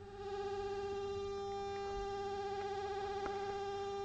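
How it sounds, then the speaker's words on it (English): Emerson LFO modules wired through a built-in VCA, one LFO modulating the amplitude of the other, giving a steady buzzy, distorted synth tone with rich harmonics and a faint rhythmic pulsing, heard alone. "we've got the LFO on the right modulating the amplitude of the LFO on the left"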